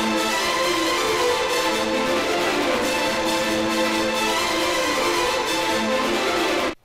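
Resampled orchestral strings for Tomb Raider music, processed through effects plugins, play as a dense, sustained, shimmering wash with layered tones and a steady level throughout, cutting off abruptly at the end, with no voices.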